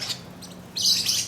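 Lovebirds chirp in a few short, bright bursts, with a louder cluster of tweets toward the end, fairly close and with no talking.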